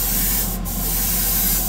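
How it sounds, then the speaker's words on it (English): Airbrush spraying paint onto Greek-style vases as a base coat, a steady continuous hiss that runs unbroken and fairly loud throughout, close up with no talking. "this is airbrushing, as might be obvious"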